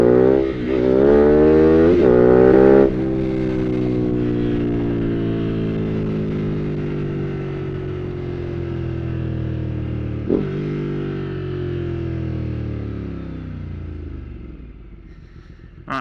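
A motorcycle exhaust during a wheelie test, recorded close and loud: a sharp rev climbs, then the engine note falls slowly as the bike decelerates, and a second brief blip comes before it fades.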